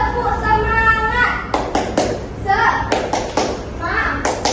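A classroom of children joins a teacher in the 'tepuk semangat' rhythmic clap game during an ice-breaking activity, with sharp bursts of clapping in a patterned rhythm broken up by the kids' chanted voices and an adult's speech.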